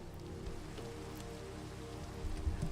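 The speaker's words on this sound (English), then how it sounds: "It's nighttime. It's raining. I don't want to do this in the rain." Nighttime rain in the video game Minecraft, a steady soft patter of drops hitting surfaces, even and continuous at a low level with no talk.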